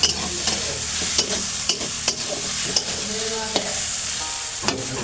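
Fish frying with eggplant in a pan, a steady close sizzle with frequent sharp spatula scrapes and stirring knocks spread across the whole stretch.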